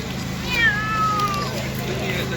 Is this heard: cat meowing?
yes